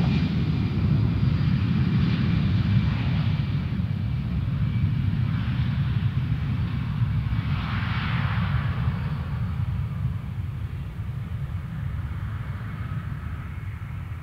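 An AirAsia Indonesia airliner departs Perth Airport on runway 03, a loud steady roar of jet engines with a broad low rumble that holds for the whole stretch and eases slightly near the end.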